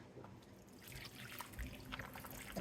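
Herb tincture made from horehound pours through a strainer in a soft, steady trickle of liquid, faint and close, with no talking.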